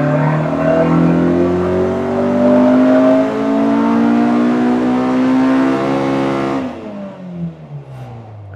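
A Honda Civic EK's K20A2 engine revs on a dyno in a long, loud rising pull that climbs steadily before cutting off and dropping back to a lower idle.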